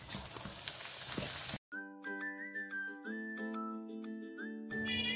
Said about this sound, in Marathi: पोहे थोडे थोडे घालून तळून घ्यायचं आहे